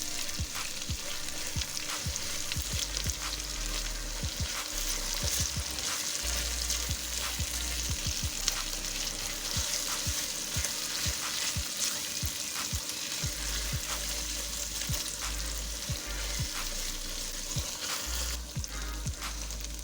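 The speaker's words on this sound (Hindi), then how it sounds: "ये भून भून के मसाले को देखें ऑयल आना शुरू हो गया बाहर।" Steady crackling sizzle of masala spices frying in hot oil for chana dal, with occasional stirring scrapes, continuous and close, no talking.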